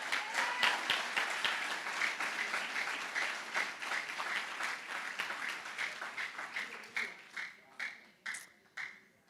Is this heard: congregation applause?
yes